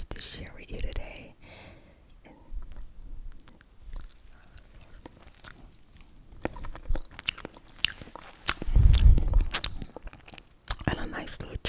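Cheese Danish pastry with soft icing eaten close to the mic, soft mouth sounds and whispering giving way to scattered bites and chewing, with a louder burst of crunching near the end.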